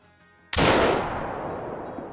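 A single loud rifle shot from a 9.3 drilling rifle in the hunting game Call of the Wild booms suddenly out of a quiet backdrop, then rolls off in a long, fading echo across open country.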